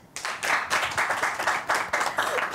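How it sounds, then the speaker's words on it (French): An audience at a school festival event bursts into steady applause, dense crowd clapping that swells in repeated waves and carries on throughout without pause. "Applaudissez."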